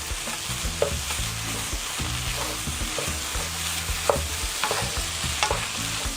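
Garlic sizzles steadily in a hot pan for Korean-style mapo tofu while a utensil scrapes and stirs with light, irregular clicks, close and fairly quiet, with no talking.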